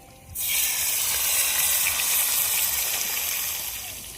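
Chopped tomato hits hot tempering oil with bay leaf and green chilli, bursting into a loud, sustained sizzle that starts abruptly and slowly eases off, with no talking.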